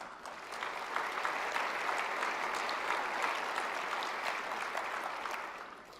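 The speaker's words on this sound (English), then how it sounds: "Please give yourself a round of applause." A crowd claps steadily for several seconds, a dense wash of applause that swells and then tapers off, with no voices over it.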